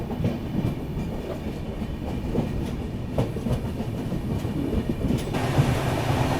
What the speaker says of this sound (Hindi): और फिर स्पीड अप हो रही है अपनी ट्रेन।